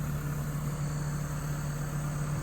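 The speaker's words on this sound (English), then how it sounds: "So you can kind of see how I'm cutting all that thick stuff." A Bobcat E60 excavator runs a VMC 42-inch brush cutter through thick woody brush, giving a steady, droning engine hum with a constant low whine, close by and unbroken, with no talking.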